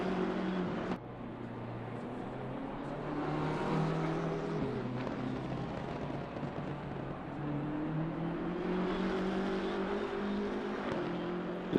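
Race car engines from the Assetto Corsa Competizione sim racing game, cars on final qualifying laps including a BMW M4, with a steady loud engine drone and shifting revs running throughout.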